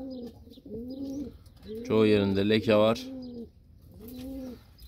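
Kıvırcık and Miro pigeons coo in a series of soft, repeated calls, with one louder, fuller burst in the middle, while someone talks over them.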